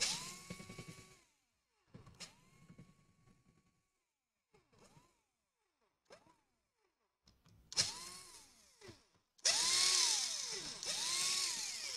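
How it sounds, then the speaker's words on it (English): A power screwdriver backs out screws from a Lenovo Legion Y540 laptop, giving short whirring bursts that ramp up and down, faint and spaced at first, then louder and longer runs toward the end. "Let's unscrew those guys."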